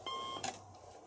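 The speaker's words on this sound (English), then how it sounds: "Or was it those four Lego Batman alarm clocks?" A Lego Batman minifigure alarm clock gives a brief electronic beep, a short bright tone followed by a second quick chirp, fairly quiet and on its own.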